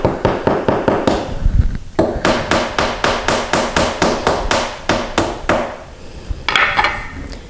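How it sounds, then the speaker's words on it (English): A hammer taps the bottom piece of a bypass sliding closet door into place until flush, giving a quick, steady run of about twenty close, loud wooden knocks with a brief pause partway through. "we're just going to tap the bottom piece in until it's flush."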